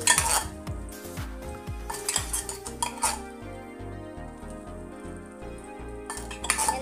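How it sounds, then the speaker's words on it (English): Canned corn tuna is stirred with other ingredients in a pan over medium heat for a tuna pie, a close run of utensil scrapes and metallic clinks against the pan over a soft sizzle, louder at the start and end. "Mix it with the other ingredients."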